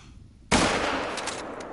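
A single loud rifle shot cracks out in the hunting game Call of the Wild, bursting in abruptly after a quiet stretch and trailing off into a long rolling echo.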